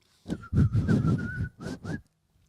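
A person whistles a short tune, several sustained clear notes in quick phrases, close and fairly loud with brief pauses between.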